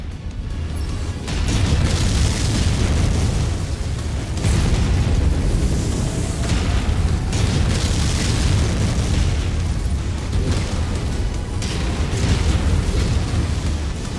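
Missile explosions in MechWarrior 5 combat, Rasalhague campaign: a continuous barrage of heavy booms and blasts rumbling loudly for the whole stretch, with dense low thunder and crackling debris, no voices.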